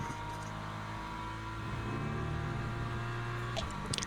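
A BMW race car engine drones steadily and loudly, holding a sustained tone with slight pitch shifts as it runs on track.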